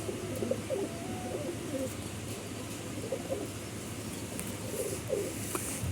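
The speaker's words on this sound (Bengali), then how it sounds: "খুবই কোয়ালিটিফুল কেটিএম পায়রা" Caged KTM pigeons coo repeatedly in soft, low, throaty bursts, several birds overlapping close by over a steady background hum.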